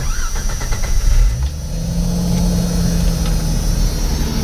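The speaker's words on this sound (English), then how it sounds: "so now that we got the air cleaner back on, everything all hooked back up, we'll start it up" A Jeep Cherokee XJ engine with a partly broken muffler cranks and fires up, then settles into a steady, rough idle close by, with no speech.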